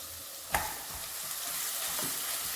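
Chilli paste frying in hot oil in a home kitchen, a steady broad sizzle throughout with a quick scraping stir near the start and a few faint spoon knocks.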